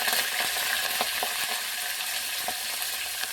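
Curry leaves and green chillies fry with cumin in hot oil for pappu charu, a dense, steady crackling sizzle broken by light stirring clicks.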